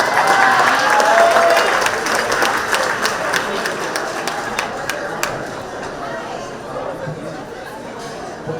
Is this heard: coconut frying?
no